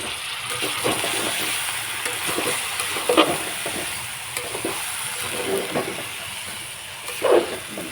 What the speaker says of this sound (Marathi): हे सगळं तेलात परतायचं म्हणजे टेस्ट लागते.